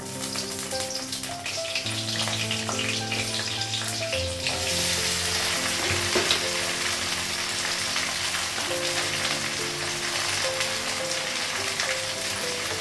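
Whole cumin seeds and green chillies frying in hot oil in a home kitchen, a steady close crackling sizzle that grows denser partway through, with background music-like tones running underneath and no talking.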